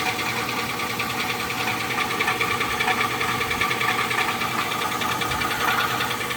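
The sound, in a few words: engine knocking in a 2005 Chevrolet Tahoe Z71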